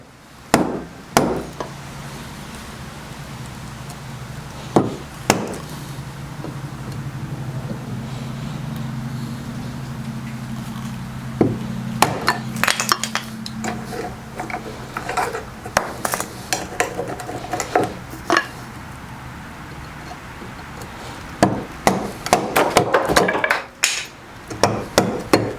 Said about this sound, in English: Now we'll take our chisel and see if we can break those out.